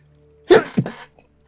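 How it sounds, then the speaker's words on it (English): A single close, sharp human sneeze, a quick burst followed by a brief second exhale, in an otherwise quiet room. "I'm going to sneeze as well."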